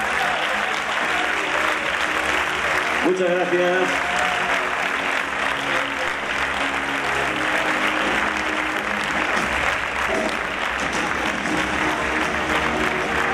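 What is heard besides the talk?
audience applause farewell for the festival queens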